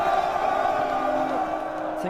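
Forty thousand Israelite soldiers raise a deafening war cry at Jericho, a massed, sustained roar of bellowing voices held steady throughout.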